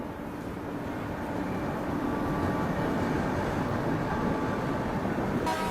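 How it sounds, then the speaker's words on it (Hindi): Grand Trunk Express train running through Hazrat Nizamuddin station in Delhi without stopping, heard as a steady, loud rumble of wheels and carriages that holds evenly throughout with no talk. "ये मेरे ख्याल से ग्रैंड ट्रंक एक्सप्रेस जो वो स्किप कर रही है दिल्ली के हज़रत निज़ामुद्दीन स्टेशन को।"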